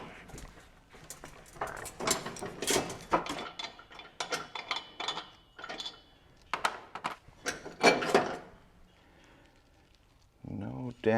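A large crescent wrench works loose the spindle pulley on a mower blade, producing a run of metallic clanks, scrapes and ratcheting clicks, close and irregular, with someone talking over parts of it.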